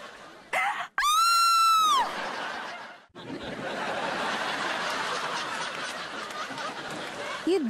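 A woman lets out a loud, high, wavering scream of fright in a Hindi TV comedy household scene, lasting about a second, followed by noisy chatter and laughter-like crowd sound.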